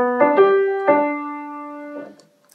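A keyboard plays the opening notes of a simple primer arrangement of a pop song, a few clean, sustained tones struck in a short rhythmic phrase, then decaying into silence.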